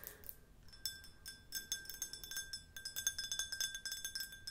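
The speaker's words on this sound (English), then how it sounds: "a nice glass kind of drink set" Heavy drinking glasses from a special-order glassware set clink together repeatedly at close range, bright ringing chinks in quick irregular taps, quiet and with no talking.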